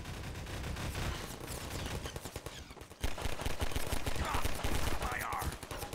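An automated turret in Half-Life firing rapid, continuous bursts of gunfire, loud and close, with a short break midway before the firing resumes, and a voice briefly heard under it.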